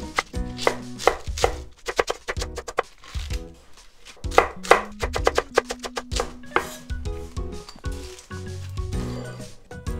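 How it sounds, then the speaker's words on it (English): A knife chops vegetable stems into bite-sized pieces for Japanese tsukemono pickles, with crisp, close cuts against a cutting board coming in quick irregular bursts separated by brief pauses. "I'm just gonna cut these into bite-sized pieces"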